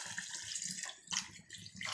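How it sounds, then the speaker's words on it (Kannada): Water is poured steadily into a cooker over rice, two glassfuls, a soft continuous splashing pour with a short pause between pours, fairly quiet and close, with no talking. "2 ಲೋಟ ನೀರು ಹಾಕ್ಕೋತೀನಿ ರೀ"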